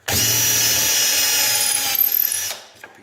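A power drill bores through a piece of wood backed by a scrap board, a close, loud, steady whine for about two and a half seconds that then winds down and stops.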